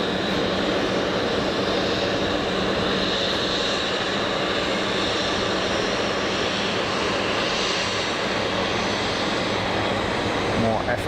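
An easyJet airliner rolls out after landing with clamshell thrust reversers deployed, a dense, sustained roar that stays loud and even throughout.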